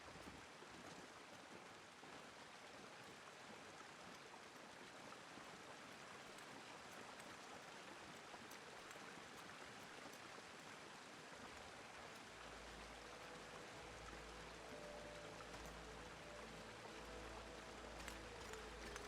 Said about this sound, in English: follow the sound of running water